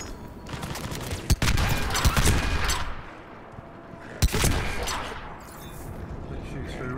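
A big gun firing in Mass Effect 3, delivering sharp heavy shots and bursts of rumbling gunfire at close range amid ongoing battle noise, with people talking over the action.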